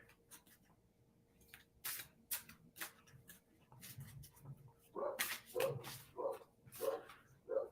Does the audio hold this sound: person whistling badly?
no